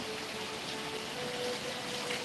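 Steady rain falling outdoors over a small home garden, a dense, even hiss of drops with no breaks, moderately loud and unaccompanied by voices.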